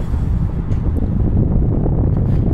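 Strong wind buffets the microphone on a harbour waterfront walk, a steady loud rumbling roar with no voices.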